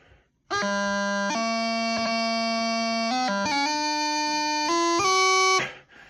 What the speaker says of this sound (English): And on the chanter, sounds something like this.